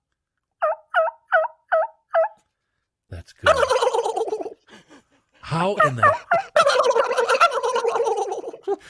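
A person imitates a hen turkey's call with five short, evenly spaced yelps, then a longer rattling gobble-like imitation, while people talk and react between the calls.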